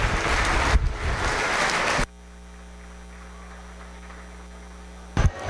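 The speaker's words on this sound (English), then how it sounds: "would you please give them a round of applause?" Audience applause at a bucket calf show, a dense burst of clapping for about two seconds that cuts off abruptly, leaving a steady electrical hum, before a brief noisy return at the end.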